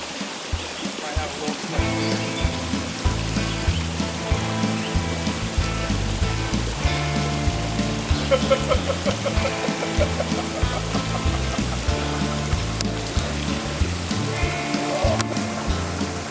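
Continuous rushing water flows steadily over rocks in a small Class A trout stream in Cameron County, with broken water and small standing waves, a constant dense wash and no pauses.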